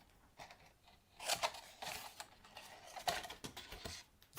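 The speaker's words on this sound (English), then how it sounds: "we're just going to cut up to the score line" Scissors snipping paper along a score line while a gift tag box is made, giving a few short, soft crunching cuts close to the microphone against a quiet background.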